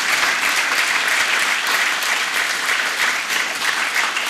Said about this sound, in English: Applause to Senator Gorse and Senator Balash